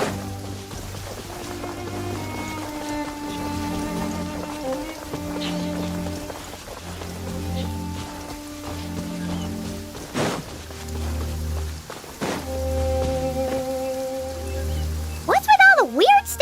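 Steady downpour from the Genshin Impact video game patters softly and continuously beneath calm spoken dialogue, with a few brighter chimes toward the end.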